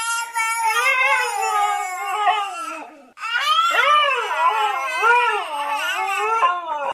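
A husky and a baby trade long, wavering howls and cries, loud and close, in two sustained stretches with a brief break between them, the voices overlapping and imitating each other.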